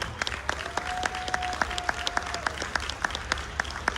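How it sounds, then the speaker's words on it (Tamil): Audience at a Tamil school Grade 8 graduation in South Florida applauding the teachers, steady sustained clapping with sharp individual claps standing out, moderately distant and continuous throughout. "அதுக்காக அயராது உழைச்ச நம்மளோட டீச்சர்ஸ் அவங்களுக்கு ஒரு பலத்த கரகோஷம் கொடுக்கணும்."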